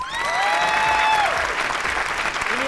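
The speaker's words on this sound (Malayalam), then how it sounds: "ഒരു കയ്യടി കൊടുക്ക്" An audience bursts into loud, sustained clapping that swells and then slowly thins out, with a few voices and whistle-like tones mixed into the crowd.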